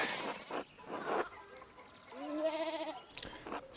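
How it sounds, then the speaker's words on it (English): A sheep bleats in the medieval adventure game Pentiment, one clear wavering cry near the listener, set among scattered clatter and rustling sounds in a farmyard scene. "One of the fence rails fell, and the sheep started hopping it."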